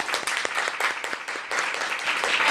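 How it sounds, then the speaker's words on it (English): An audience claps for a presenting group, a dense, steady patter of many hands at moderate distance, sustained through the whole short stretch without talk. "Let's give them a round of applause first"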